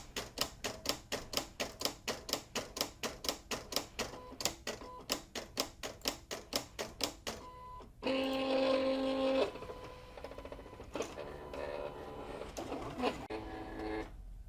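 A Silhouette CAMEO cutting machine works through Siser glitter HTV, first with a rapid run of sharp, evenly spaced mechanical clicks and ticks, then a denser whirring motor passage with scattered knocks, fairly quiet and close.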